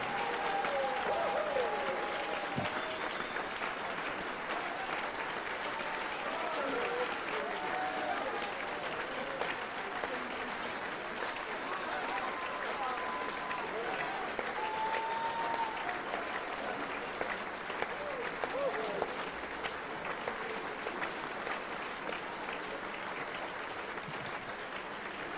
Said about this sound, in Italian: Per favore, Milano, un grandissimo applauso.